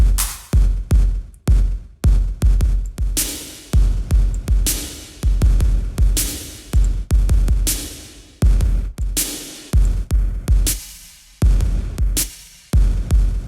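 A drum pattern through a tight room reverb preset, with punchy kicks and snare hits, each followed by a short, tight room reverb tail, playing steadily with no voices.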